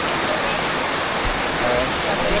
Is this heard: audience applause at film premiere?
no